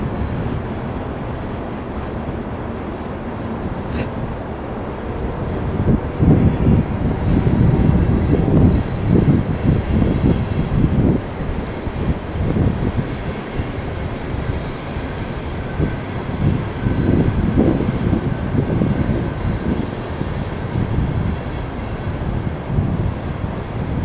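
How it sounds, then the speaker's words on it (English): A long coal train rumbles past close by at Cotton Hill, West Virginia, a heavy continuous roll of wheels and clanking cars that swells and then holds steady. "There's the end of the train."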